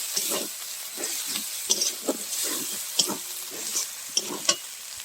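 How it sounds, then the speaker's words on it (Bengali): Turmeric and Kashmiri chili powder fry in a pan for a mutton curry while a spoon stirs and scrapes in a regular rhythm, with soft sizzling between the strokes and no talk. "ভালো করে মশলাগুলো কষিয়ে নেব।"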